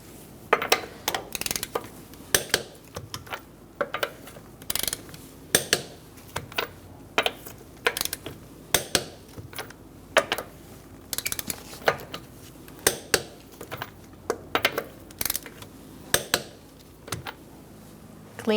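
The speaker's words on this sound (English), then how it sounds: "Using a 21mm socket, I'm going to torque our wheels to 80 foot-pounds in a star-like pattern." Metal clicks from a torque wrench with a 21mm socket tightening the front wheels of a 2014-2019 Kia Soul to 80 foot-pounds in a star pattern: sharp, regular ratcheting clicks in short bursts, close and clear.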